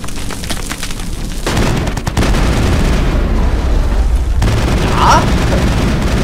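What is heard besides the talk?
enemies firing heavy guns in Mass Effect video game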